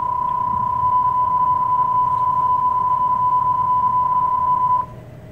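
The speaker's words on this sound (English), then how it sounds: "PSK31 is one of the earliest digital modes, and it sounds like" A PSK31 digital radio signal plays as a single steady, narrow warbling tone held for about five seconds, clear and loud over faint background hiss, then cuts off.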